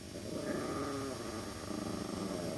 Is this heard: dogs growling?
yes